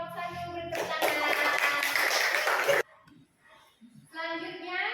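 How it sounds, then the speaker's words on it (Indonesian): A classroom of students applauds discussion group 1 with a dense burst of clapping that stops abruptly, followed by a short pause and then the teacher's voice. "terima kasih kelompok 1 beri tepuk tangan."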